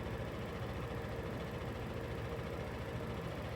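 A scooter engine turns over steadily on a dyno at minimal throttle and low load, its dense, even mechanical rumble running unbroken and fairly loud throughout.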